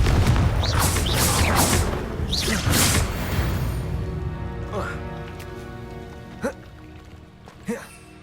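Confringo explosive spell blasts in Hogwarts Legacy, with a few loud booming bursts crowding the first seconds, then sparser, fainter impacts fading out as a voice speaks over the action.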